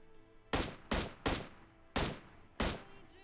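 Five sharp, loud single shots from an M16 rifle ring out in a video game, spaced roughly half a second apart in an uneven rhythm. Each crack is followed by a short decay, with quiet gaps between them.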